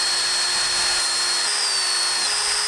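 A power drill drives a larger bit at an angle through a pilot hole on a mud motor prototype. The motor gives a loud, steady high whine that holds its pitch with only slight shifts throughout.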